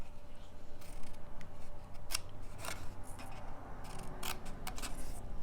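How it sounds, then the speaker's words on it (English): Scissors trim out a small wedge with a quick series of close, crisp snips and rustles, spaced irregularly over a soft background. "Go back and trim out my little wedge"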